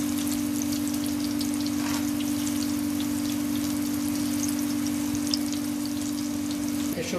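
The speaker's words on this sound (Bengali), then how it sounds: "এগুলোকেও 2 থেকে 3 মিনিট ভাজার পরে উল্টিয়ে দিব।" Vegetables coated in tempura batter deep frying in hot oil, a continuous dense bubbling crackle heard close and steady, with a constant low hum underneath and no talking.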